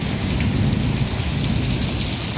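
Heavy rain pours down in a dense, constant roar, loud and close, with a low rumble that suggests thunder within the storm.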